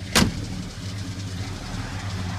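A 1962 Pontiac Grand Prix with a Pontiac 455 V8 runs at a steady, deep idle after a short sharp knock at the start, with no talk over it.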